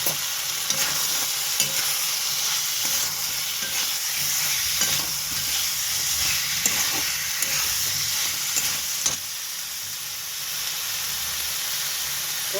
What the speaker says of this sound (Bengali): আলু চিংড়ি মাছের তরকারি একটুখানি কষা হচ্ছে